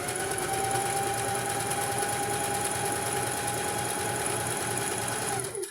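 A sewing machine runs steadily while stitching a Halloween costume, a loud, continuous whirring hum that holds for several seconds before stopping abruptly at the end.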